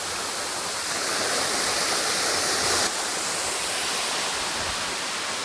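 A hidden forest waterfall in Thrissur pours in a loud, steady, broadband rush that barely changes throughout, with no voices over it.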